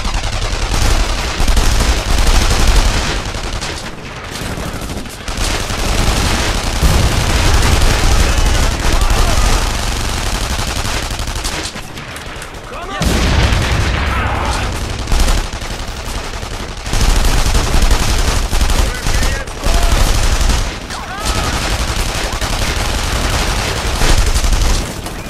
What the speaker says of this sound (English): Shite! Gunfire!